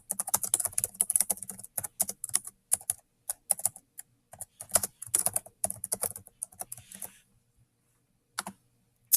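Rapid typing on a computer keyboard, a fast irregular run of close, crisp key clicks that continues for about seven seconds, stops, and is followed by a couple of isolated taps.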